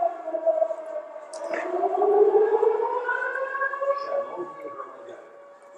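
An air raid siren wails steadily over central streets of Odesa, Ukraine, in 2024, its long rising and falling tone sustained throughout, heard from a distance with no one talking.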